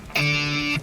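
Two guitar strings sounded together as an octave, ringing as one steady, sustained tone for just over half a second before cutting off, clear and alone with no voice.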